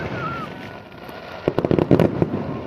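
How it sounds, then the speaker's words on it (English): El Diablo fireworks go off at a July 5th show in a rapid string of loud, sharp bursts and crackles, clustered over about a second after a quieter stretch of background noise. "They're firing the El Diablos."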